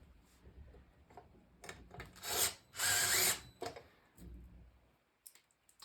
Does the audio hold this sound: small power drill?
yes